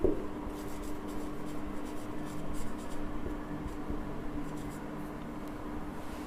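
Pen writing on paper during a vector math lesson, a steady close scratching and rubbing that runs continuously without pause. No talk is heard.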